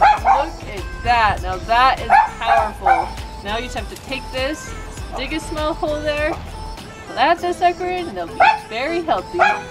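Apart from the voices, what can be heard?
neighbor's dog barking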